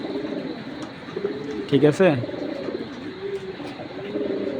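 Giribaz pigeons coo in a cage with soft, rolling calls running throughout, swelling into a louder burst midway, while a person speaks briefly nearby.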